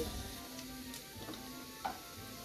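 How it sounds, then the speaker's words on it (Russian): Finely chopped onion frying over medium heat in ghee, a soft continuous crackle with a few small pops, heard close up with no voices. "мелко нарезанный лук обжариваем на среднем огне в топленом"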